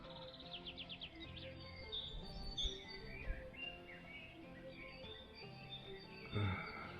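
Birds chirping and tweeting overhead at the top level of the abandoned Łapalice castle, a steady scatter of small calls at moderate distance with no talk.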